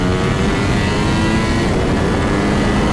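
A Ducati Panigale V4S motorcycle accelerating hard, its engine a loud, dense, close roar that holds steady and unbroken for the whole stretch with no voices.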